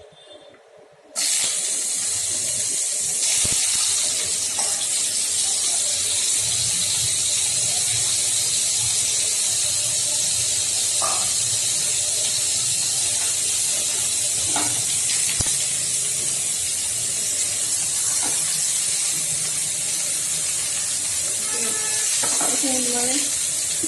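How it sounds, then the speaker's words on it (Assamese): Cauliflower florets hit a hot kadai and set off a steady, loud broadband hiss that holds for the whole stretch after a quiet start, with faint clinks of stirring now and then. "কেৰাহীখন গৰম হৈছে, মই ইয়াত ফুলকবিখিনি দি দিম"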